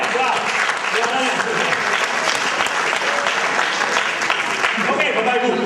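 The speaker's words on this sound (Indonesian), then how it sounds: "1 triliun, tepuk tangan dulu." A seminar room full of people claps steadily for several seconds, dense and sustained, with a few voices mixed in.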